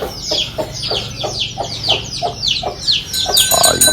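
Chickens cluck close up in quick, repeated calls that keep a steady rhythm and grow busier toward the end.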